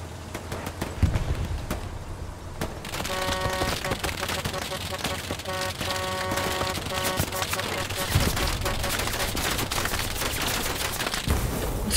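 Sustained World War II gunfire from Hell Let Loose: a continuous clatter of rapid rifle and machine-gun shots with heavy booms, loud and dense for the whole stretch while the player is pinned down by a sniper.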